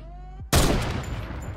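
A single loud gunshot in Fortnite Battle Royale fired through a hole in a wall, an abrupt blast after a quiet moment, trailing into a long echoing decay.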